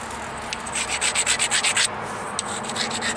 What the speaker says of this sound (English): So I'm going to stop. I'm going to grind again.